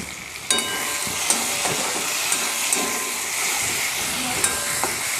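A masala with turmeric, salt and a pinch of sugar is sautéed in a pan for a fish-head curry, giving a continuous hissing sizzle broken by several sharp utensil taps and scrapes, close and without talking.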